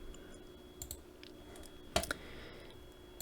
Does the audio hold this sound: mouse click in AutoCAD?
yes